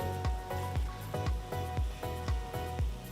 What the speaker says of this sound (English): Fry it till it turns to a nice golden brown color like this.